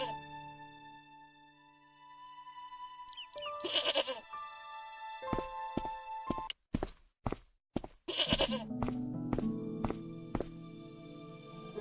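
Goat bleating in the Broken Sword adventure game, tethered by a rope near an old plowshare: several nasal bleats come in short bursts over a soft tonal background, with clicks and footstep-like taps between them.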